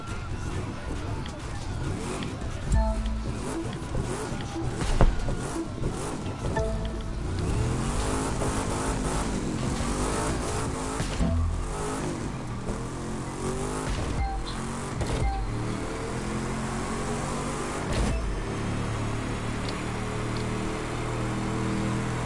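A race car engine in The Crew 2 revs and accelerates continuously, a loud, sustained roar that climbs through gear shifts with occasional tire squeal, while a voice talks over it.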